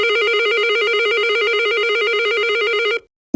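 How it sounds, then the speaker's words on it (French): A TCS intercom outdoor station rings with a steady warbling electronic tone that trills continuously for about three seconds, then cuts off abruptly. "Si la station extérieure sonne normalement"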